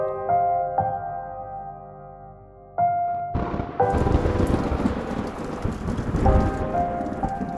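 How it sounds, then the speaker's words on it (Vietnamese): Heavy rain and strong wind sweep through a dark forest, loud and continuous with rumbling thunder, after a few seconds of sustained tonal notes at the start. "Từng hạt mưa trút xuống khu rừng âm u, gió thổi mạnh qua từng tán cây"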